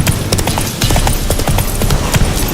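Hooves of the horse Roach in The Witcher 3 clip-clop in a steady, quick rhythm, loud and close throughout, alone without talk.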